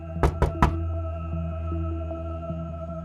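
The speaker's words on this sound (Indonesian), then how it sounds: "terdengar suara ketukan pintu" Three sharp knocks on a door, close and loud, followed by a steady low hum with no talking.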